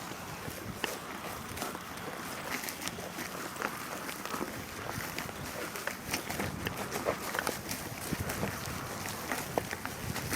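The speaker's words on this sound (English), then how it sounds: "running through fucking almost below knee deep hay" Footsteps running through nearly knee-deep hay in a field during hay harvest, rustling and swishing steadily in quick repeated strides with wind buffeting the microphone.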